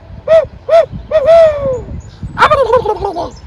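A voice or caller imitates an owl for turkey hunting: a few rhythmic hoots, then a drawn-out hoot and a trailing, wavering call, loud and close.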